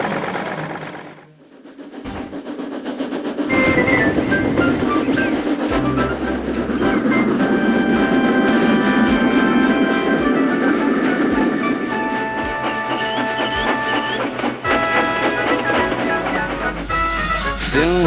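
A train shunts along a railway line, a loud continuous rumble with clickety-clack rhythm and squealing metallic tones that builds after a brief quiet start and holds steady throughout.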